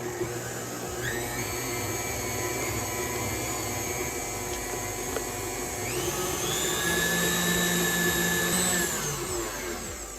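An electric mixer beats butter into a dough for pumpkin pasties in a home kitchen, a steady whirring hum with a high motor whine that rises in pitch partway through, running continuously with no talk.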